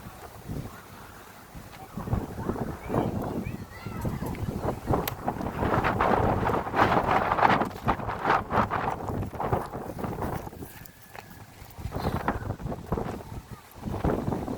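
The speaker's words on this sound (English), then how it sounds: "No, I know it's windy" Steady wind buffets the microphone with a low rumbling roar, gusting louder midway, while a person talks intermittently over it.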